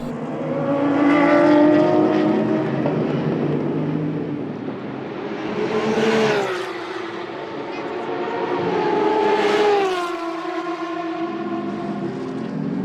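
BMW Z4 GTR GT race cars at the Nürburgring roar past in loud, rising and falling engine sweeps, with gear-change dips and a second car surging close behind, while a voice talks over the racing noise.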